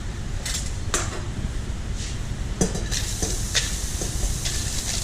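Onions caramelise in oil in a pan, a steady close sizzle broken by several sharp clinks and scrapes of a utensil stirring against the pan.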